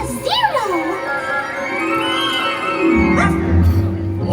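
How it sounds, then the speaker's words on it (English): A ghost dog in a Halloween party show gives a few yips and whimpering, howl-like bark sounds early on over music and crowd noise, with voices present. "A dog! It's a ghost dog!"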